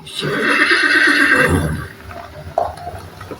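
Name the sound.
piebald or skewbald horse neighing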